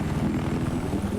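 Helicopter engine and rotor noise from the video game Battlefield 4, a steady low churning drone with rhythmic rotor pulsing that runs continuously and fairly loud through the short stretch.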